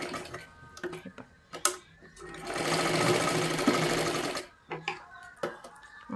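Sewing machine stitching blouse fabric for a princess-cut blouse: a steady, loud mechanical run of a couple of seconds, framed by scattered clicks, handling taps and brief pauses before and after.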